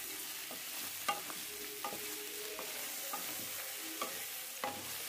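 Soft sizzling in a pan with rhythmic scraping and tapping of a spoon as tomato is stirred and sautéed for chutney, quiet and close, no speech.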